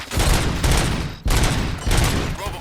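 Rapid volleys of gunfire from the video game Robocop: Rogue City, loud and close, in three dense bursts separated by brief breaks, with no talk.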